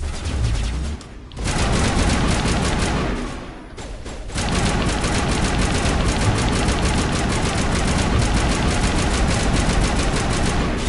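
Mass Effect gunfire: dense, rapid automatic bursts rattle almost continuously and loudly, broken by two short lulls before the firing resumes at full intensity.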